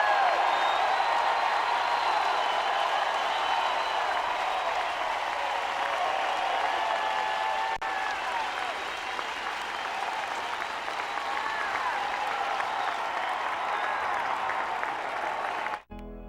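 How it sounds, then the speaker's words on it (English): Tennessee baseball fans at Rocky Top cheering and applauding after a 2024 win over Evansville, a long, loud, sustained roar of crowd cheering and clapping that cuts off abruptly at the end. "Listen to this cheer from the fans on Rocky Top."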